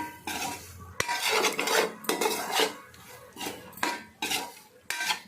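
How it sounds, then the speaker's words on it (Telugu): Chicken livers are tipped into a pan while making chicken liver pickle, giving repeated loud metallic clatters and scraping of a spoon against the pan in bursts, with no talking. "మనం ఇప్పుడు ఈ లెవర్లు ఉన్నాయి కదా వేసేసుకుందాం జస్ట్ అలా కొంచెం"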